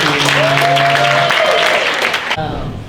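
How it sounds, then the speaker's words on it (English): An audience claps for a poet being welcomed to the stage at a poetry event, a loud continuous burst of applause with some voices over it, cutting off abruptly near the end. "Y'all start clapping right now for Kennedy."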